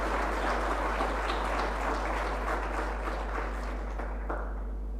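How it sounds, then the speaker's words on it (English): Audience applause for newly appointed judges, including Justices Michael Leburu and Lot Moroka, at a Botswana legal gathering; a steady, moderately faint wash of clapping across a room, over a low hum, tapering slightly near the end. "Can I kindly ask you to give them a round of applause and congratulations."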